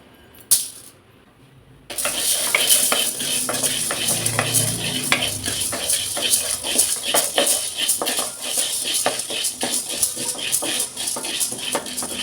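Dry chana dal poured onto a hot griddle and roasted for drumstick-leaf podi: near silence, then a sudden clatter as lentils hit the pan, followed by continuous rattling, scraping stirring and a light sizzle.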